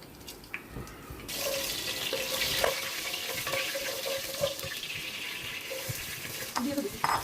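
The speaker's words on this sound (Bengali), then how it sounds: "চুলায় পরিমাণ মতো তেল দিয়ে দিচ্ছি এটা দিয়ে দিচ্ছি শুকনা মরিচ গোটা জিরা তেজপাতা" Dried red chillies, whole cumin and bay leaves dropped into hot oil in a pan for a meat dish: a bright sizzle swells up after a quiet opening and continues steadily, with small clinks and faint background voices.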